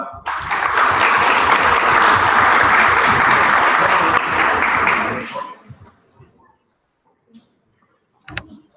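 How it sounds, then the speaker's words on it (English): Applause from a student meeting audience during a contested election, a dense, steady burst of clapping for about five seconds that fades out, followed by quiet with a few faint clicks and knocks. "round of applause for that"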